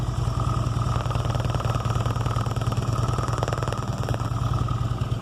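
A Harley-Davidson Ultra engine idles steadily nearby with a rapid, even chugging pulse and a rattling vibration from an unbalanced motor, loud and unbroken, no voices.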